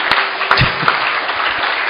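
A crowd at an Alcoholics Anonymous speaker meeting applauds steadily, a dense wash of many hands clapping indoors with no voices over it.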